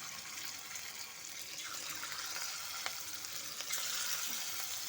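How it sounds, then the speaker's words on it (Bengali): Mushrooms fry in white oil in a pan, giving a steady, close hiss and crackle throughout, with a few small pops and no voices. "এখন আমি মাশরুমগুলোকে ভেজে নেব।"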